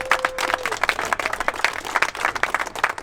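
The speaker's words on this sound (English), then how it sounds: "Deserves a round of applause." Brisk, close clapping from a small group at a drifting event in Liverpool, a dense round of applause lasting a few seconds with uneven bursts and no talk over it.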